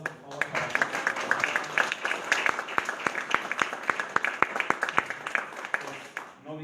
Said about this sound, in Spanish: También un aplauso, por favor, para ellos.